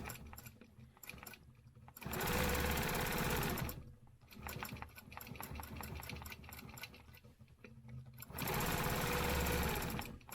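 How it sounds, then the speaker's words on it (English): A sewing machine stitches half-inch quilting lines in two loud, steady runs of rapid whirring, separated by quieter stretches of softer mechanical clatter and brief pauses. "I can just use my ruler to stitch in the 1/2 inch lines."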